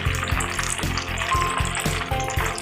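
Fish frying in a pan over medium-low flame, a dense close sizzle with rhythmic light clatters as it is handled and flipped.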